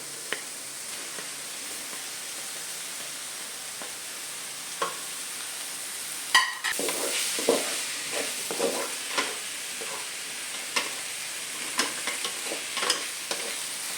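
Chopped tomatoes tumble into onions frying for egg bhurji, with a soft thump midway followed by repeated scraping stirs over a steady, quiet sizzle.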